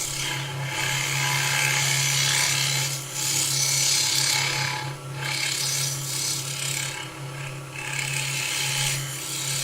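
Skew chisel cutting a socket into spinning timber on a wood lathe, a steady loud rasping scrape over the lathe's constant motor hum, briefly easing off and resuming several times.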